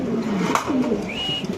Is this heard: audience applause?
no